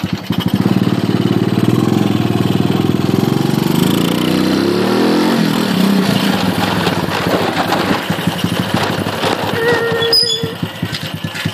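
A Philippine scooter engine runs loud and close throughout a quick one-handed spin, its drone rising in pitch as it accelerates, then easing off into rougher rattling toward the end.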